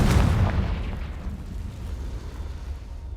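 A Confringo blasting spell in the video game Hogwarts Legacy goes off with a loud, sudden explosive burst, then a low rumbling tail that slowly fades. No one talks over it.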